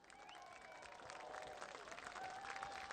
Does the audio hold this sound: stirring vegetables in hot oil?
no